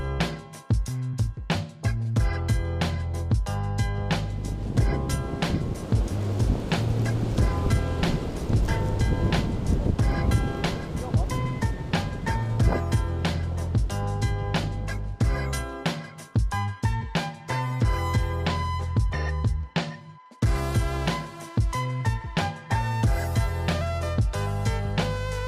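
Hail clatters hard and continuously at a village pond, a dense loud rattle of countless impacts mixed with gusting wind, with a brief lull near the end.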